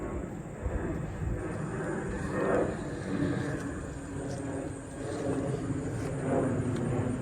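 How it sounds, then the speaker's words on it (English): A distant airplane flies overhead outdoors, a low broad rumble that swells and fades twice over several seconds beneath faint background noise. "That is a lot of planes. That is the third plane I've heard."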